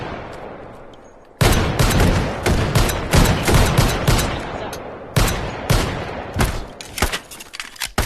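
Desert Eagle pistol shots in the VR shooter H3VR: after a quiet start, a run of loud, sharp reports comes at an uneven rhythm, close by and ringing out over each other.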